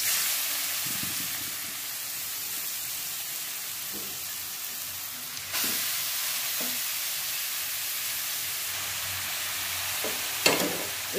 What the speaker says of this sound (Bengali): গাজরটা আগে তেলের মধ্যে খুব ভালো করে আস্তে আস্তে ভাজবো।